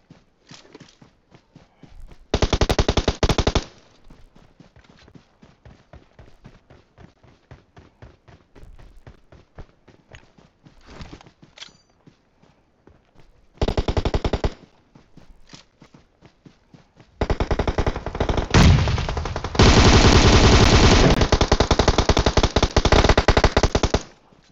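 An M249 machine gun in PUBG Mobile fires in loud, sustained automatic bursts, one short, another brief, then a long stretch near the end, with rapid footstep-like taps in between.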